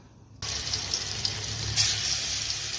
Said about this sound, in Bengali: এবার আমি পনিরটাকে ভেজে নেব